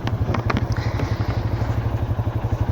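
Motorcycle riding off-road, its engine putting out a rapid, pulsing low thump close by, with clattering and knocks from rough ground throughout.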